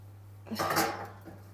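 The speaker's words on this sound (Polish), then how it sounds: "Teraz wrzucamy go do piekarnika." Banana bread in a tin slid into an oven, a brief metallic clank and scrape of the pan against the rack over a steady low hum, with no talk.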